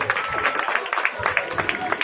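A festival crowd applauds at a Ganesh Chaturthi celebration at Patel Chowk, Haldwani, with steady, fairly close clapping that runs throughout alongside voices talking.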